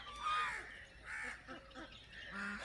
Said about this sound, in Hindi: कितनी खूबसूरत बतख हैं जी ये।